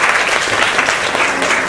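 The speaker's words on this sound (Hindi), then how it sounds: "इनके लिए ताली बजा दीजिए, बहुत अच्छा।" A classroom of government school children claps for a child, a brief burst of dense, steady applause from a group close by.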